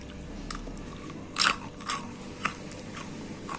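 A few crisp crunching bites into fried masala mathri snacks up close, with soft chewing crackles between them and no talking.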